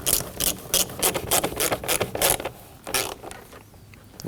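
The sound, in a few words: ratchet tightening hose clamp on Ford Edge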